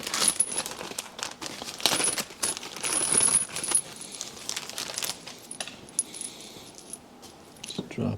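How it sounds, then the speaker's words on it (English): New bolts for an AMG M156 intake manifold drop and clink against metal in a scattered series of bright jingling taps and rattles, close by and with no talking. "Let's drop in our new bolts."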